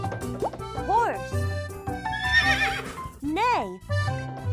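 Neighing from a horse rises and falls in a couple of clear whinnies, set against light background music in a kids' animal-sounds lesson, with a narrator speaking alongside.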